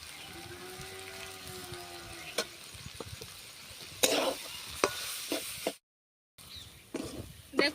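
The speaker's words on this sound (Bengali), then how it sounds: "ভালোভাবে কষাতে থাকবো ওর মধ্যে দিয়ে দিচ্ছি স্বাদ মতো চিনি" A spatula stirs and sautés a green banana chhechki in a pan, giving scraping strokes and sharp clatters over a low, steady sizzle, broken by a brief silent gap.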